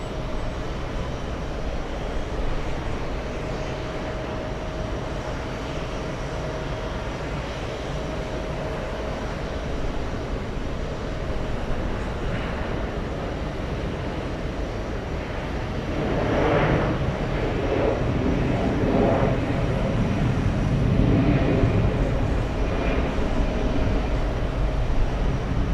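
Delta airliner taking off at JFK bound for Fort Lauderdale, a steady broad jet roar heard from a distance that swells somewhat louder toward the end.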